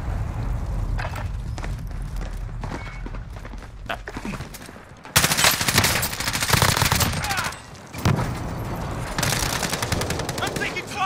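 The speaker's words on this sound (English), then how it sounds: "I'm taking fire!" Rapid automatic gunfire from a Call of Duty match on Rebirth Island, dense bursts of shots with a sharp louder stretch midway, close and intense, with players talking over the firefight.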